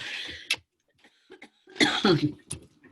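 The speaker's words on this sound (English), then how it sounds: "I have this unfortunate habit of coughing" A person coughs several times in uneven bursts, some harsh and loud, with short pauses between them, close up and alone.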